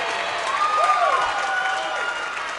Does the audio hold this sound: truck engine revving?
no